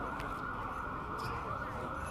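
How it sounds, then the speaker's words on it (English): An ambulance siren wails steadily nearby over a loud background at an outdoor Long Beach centennial event, holding a continuous tone as it passes. "As soon as the ambulance passes."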